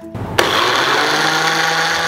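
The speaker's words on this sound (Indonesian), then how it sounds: "Sekarang bawang putihnya kita blender halus." A kitchen blender grinds garlic with water for Mie Selat seasoning: a brief quieter moment, then the motor kicks in sharply and whirs steadily and loudly, with a broadband grinding roar that fills the rest.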